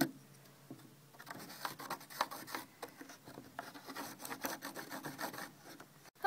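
Quiet, irregular scratchy strokes of a pencil or marker tracing a handsaw handle outline onto wood, close by, with short pauses and no talk.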